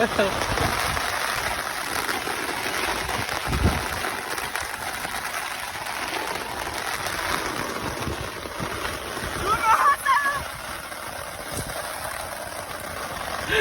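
Steady rain patters continuously across a surface, a dense hiss with a few brief louder knocks and voices faintly mixed in.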